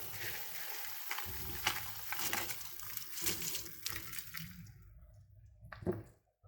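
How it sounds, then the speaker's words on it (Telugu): Soaked basmati rice tipped into boiling water in a pot for peas pulao and stirred, a close run of wet rushing splashes and scraping stirs that fade to quiet with one last scrape. "మనం ముందుగా కడిగి నానబెట్టుకున్న బాస్మతి బియ్యాన్ని ఇప్పుడు మసులుతున్న ఎసర్లు వేసేసుకుందాం"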